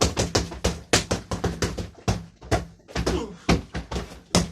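Repeated martial arts strikes on a punch bag, elbows and whole-body hits, land as sharp close thuds in quick uneven bursts with brief pauses between, loud and dry with no talk.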